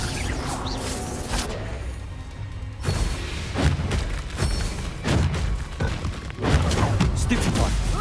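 Bombarda and Confringo spell blasts in the Hogwarts Legacy video game, repeated booming thuds and crashes over a dense mix of combat effects, loud and close, with a voice shouting spell names throughout.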